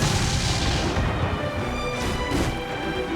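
Ship cannon fire during a naval battle in Assassin's Creed Freedom Cry, dense rumbling booms and crashing blasts layered into a continuous loud barrage with no voices.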